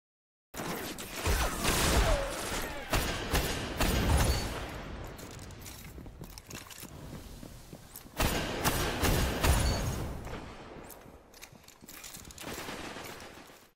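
Sci-fi weapon firing in Destiny gameplay, repeated bursts of rapid gunfire with mechanical clatter and thuds, loud and close, easing between volleys and picking up again.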